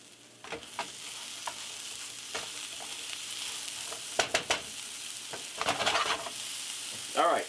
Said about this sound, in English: cook this down for about 5 or 6 minutes, just until the eggplant is looking cooked, soft, stirring every minute or so